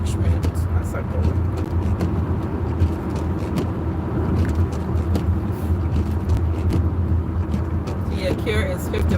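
A car drives on a wet road at night, with a steady low engine rumble and tire hiss droning close and constant throughout while a person talks over it.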